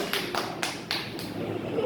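Children clapping their hands during a classroom letters game, about four or five sharp, separate claps spaced irregularly, close by and moderately loud.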